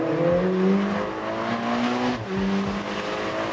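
A Ferrari Portofino V8 accelerates hard in first gear, a loud, rising engine roar with a brief dip at a shift before climbing again, heard up close.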